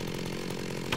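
Chainsaw cutting in Minecraft with the Industrial Automation modpack, a continuous buzzing motor drone held at steady loudness for the whole second, alone and up close.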